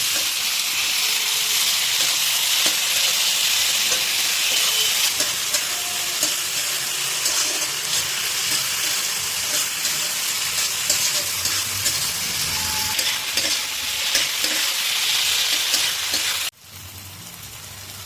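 Eggplant with chopped tomato and salt fries in a pan for baigan bharta, giving a loud, steady sizzle with scattered stirring scrapes; the frying noise runs unbroken and drops abruptly near the end.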